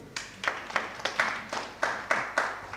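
Audience at a housing cooperative general meeting clapping for a school, heard as a steady series of about nine distinct, evenly spaced claps, fairly close and moderately loud, without talk over them.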